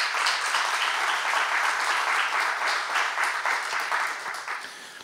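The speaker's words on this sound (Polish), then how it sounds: "Brawa dla wszystkich Państwa." Applause from teachers at a conference on history and the present, a full, even wash of many hands clapping that holds steady and then fades out over the last second.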